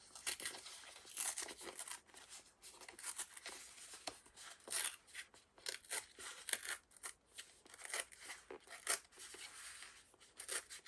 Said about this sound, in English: So we're going to tear this away from us.